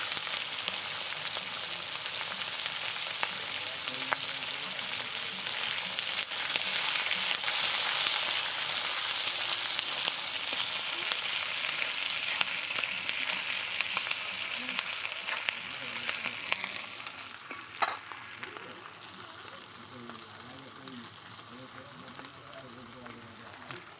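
Chopped onions frying in a pan, a steady, hissing sizzle that runs close and constant for a long stretch, with a quiet voice intermittently underneath and a few stirring knocks toward the end.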